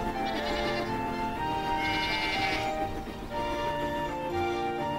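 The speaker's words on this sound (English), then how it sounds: "There are farms with goats." Goats bleat on a farm in a cartoon, with several wavering animal calls overlapping in a steady chorus.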